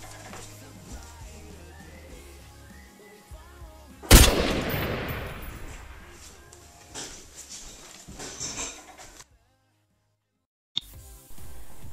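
A sharp gunfire burst cracks out loud, then a noisy decaying rumble trails off over a few seconds before cutting to near silence, with a faint thump at the end.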